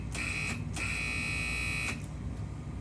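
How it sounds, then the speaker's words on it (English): Alarm buzzer on an Alkon Command Batch control board at a concrete batch plant sounds in two steady, loud electronic tones, a short one then a longer one of about a second, each ending abruptly. "that's how you buzz the alarm"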